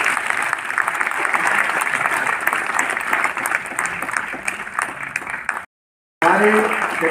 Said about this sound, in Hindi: अभिनंदन से पहले भी तालियां बज सकती है।